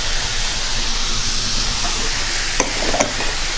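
Potatoes fry in a pan with a dense, steady sizzle and hiss, close and constant, with a couple of soft stirring knocks near the end and no talking.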